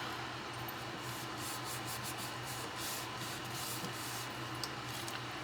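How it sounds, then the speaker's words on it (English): An ink pad is rubbed across paper to distress a junk journal page, giving a continuous close, dry scrubbing rasp with a faint repeating stroke rhythm and no talk. "I'm just going to take this ink pad, and we're just going to rub it on here like so."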